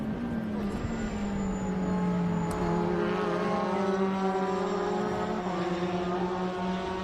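The whine of a supercharged Revolution 500 race car at Road America, a steady high-pitched tone that slowly rises in pitch over a constant engine drone, heard during race coverage.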